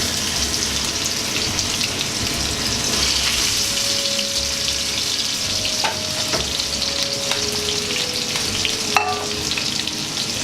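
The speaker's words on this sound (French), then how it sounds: "je vais les faire dorer légèrement au beurre" Blanched veal sweetbreads browning gently in butter give a steady, close frying sizzle with occasional spoon stirs and faint clinks, no voices over it.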